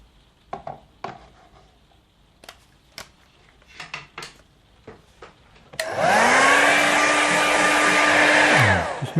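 Faint taps and clatters of watercolour painting work come first, then a hair dryer switches on loudly over the painting and blows with a steady whirring roar for about three seconds before cutting off.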